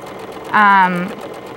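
A sewing machine stitches a free-motion stipple on quilting fabric trimmed with sequins. Its motor gives one short, steady, close-up hum of about half a second over quiet room noise.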